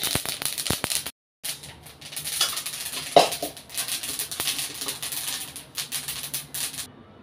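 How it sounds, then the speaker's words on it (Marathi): Roasted flaxseed poured from a pan into a kadhai, giving a dry, scattered patter of small seeds striking metal, with a brief gap and one sharper clatter partway through. "तर हे मी कढईमध्ये ओतते"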